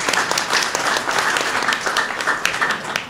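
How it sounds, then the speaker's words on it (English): Guests at an Asian American and Pacific Islander Heritage Month reception applaud themselves, a loud, sustained burst of many hands clapping close by, with no talk over it. "give yourselves a round of applause"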